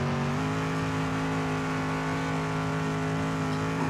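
In the Demolition Derby 3 video game, a NASCAR-type race car's engine hums steadily and steps up in pitch once early on, then holds a continuous, fairly loud drone to the end.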